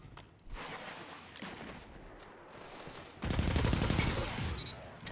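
Enemy shotgun fire in the Destiny video game, a dense burst of blasts that swells loudly in the second half over a steady background of game noise, with no talking.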